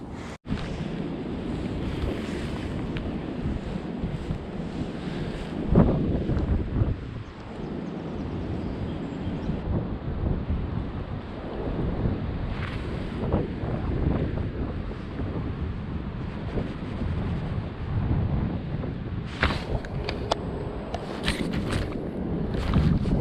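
Strong, unrelenting wind roars across open water on a fishing outing, buffeting the microphone as a steady rushing noise with gusts throughout.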